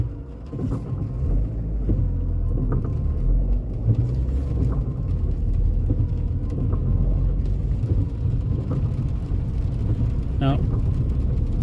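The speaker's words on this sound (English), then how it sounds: "as I'm driving through Edinburgh" A car driving through the streets of Edinburgh, its engine and road rumble steady and close throughout, with a brief brighter sound near the end; talk is also picked up in the background.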